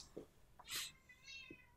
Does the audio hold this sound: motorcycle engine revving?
no